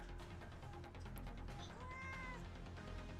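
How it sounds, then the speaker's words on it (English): A pet cat meows softly indoors, several short, fairly close calls over a low steady background hum. "Now you don't meow."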